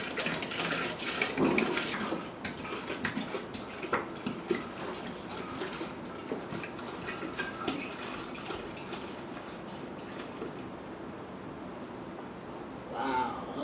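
Cold tap water runs steadily into a home-brew fermenter for a Cascadian dark ale, a continuous splashing gush with a few clatters and brief voices, then a louder slosh near the end.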